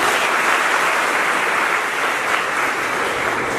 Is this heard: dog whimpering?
no